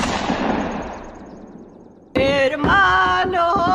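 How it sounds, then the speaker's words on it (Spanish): A single gunshot rings out in a crime documentary, a loud sharp crack whose broadband burst decays into a long fading reverberant tail, cut off by music starting abruptly afterward. "Escuchó una explosión. Pensó que era un neumático que explotaba, pero era un disparo."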